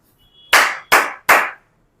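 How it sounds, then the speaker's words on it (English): Three firm hand claps land in quick succession, loud and close, each a full bright smack with a short tail, in an otherwise silent room. "Oh, I clap."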